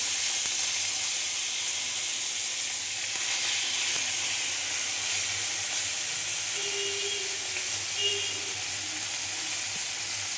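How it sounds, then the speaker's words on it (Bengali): Mixed spice ingredients for a small-fish curry drop into hot oil and sizzle loudly and steadily, a close, continuous hiss that lasts the whole stretch with no voices over it. "এবারে যেটা মিক্স করে রেখেছিলাম সব উপকরণগুলোকে গরম তেলের উপরে দিয়ে দেবো।"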